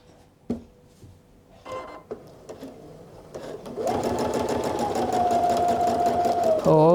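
A sewing machine runs steadily while stitching quilting lines with uneven stitch length, loud and close, after a few scattered clicks and taps, and it winds down abruptly at the end.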